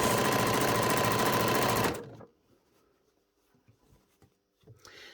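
A sewing machine stitches a tartan pleated doll skirt along a line of stay stitching in one loud, steady two-second burst. It stops abruptly, leaving faint handling noises in near silence.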